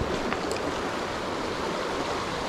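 A wilderness trout creek rushes in a continuous broad wash of flowing water, steady and close with no pauses.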